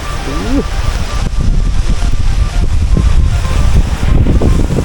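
Strong cold wind buffets outdoors at a fish pond during net fishing, a loud continuous rumbling roar with gusts, while people talk and call out over it.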